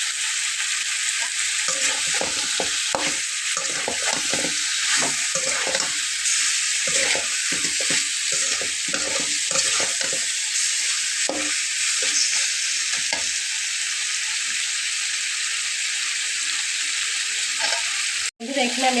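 Spices and two dried chillies fry in hot oil for a spicy goat-head curry, a loud constant hissing sizzle with a run of rhythmic stirring scrapes in the middle and a sharp knock near the end.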